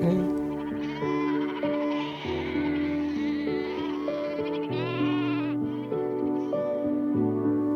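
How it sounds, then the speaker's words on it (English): A large flock of sheep, numbering in the thousands, bleats on the Highclere estate grounds, with overlapping, sustained calls forming a loud, continuous chorus. "it's only sheep. Lots of sheep."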